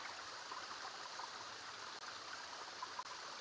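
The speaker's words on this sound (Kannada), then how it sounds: "ಇವಾಗ ತಾನೇ ನೀರು ಹರಿತಾನೇ ಇದೆ" Steady broadband rush of stream water flowing near a hidden waterfall, continuous and fairly faint with no voices, holding an even wash throughout.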